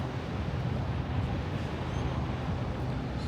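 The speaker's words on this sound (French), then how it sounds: "il y a beaucoup de vent" Strong wind at Bondi Beach in Sydney roars steadily across the microphone, a dense, constant low rumble with no voices.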